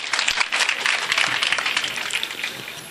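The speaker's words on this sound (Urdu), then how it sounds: "آپ ایک بار پھر استقبال کیجئے زوردار تالیوں کے ساتھ" A mushaira audience gives lively applause to welcome a poet to the mic, dense clapping that rises and then gradually tapers off.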